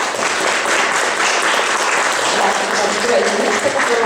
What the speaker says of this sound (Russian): приглашу Павла Григорьевича на сцену под бурные аплодисменты